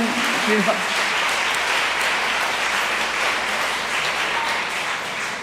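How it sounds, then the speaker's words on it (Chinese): An audience at a memorial concert applauding together, a sustained dense patter of many hands filling the room, with a voice speaking over it. "咱拍手"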